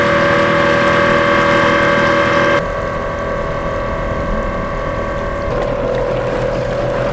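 An electric outboard motor drives a small boat, giving a steady whirring hum over wind and water rush that drops to a softer level partway through and then shifts pitch near the end.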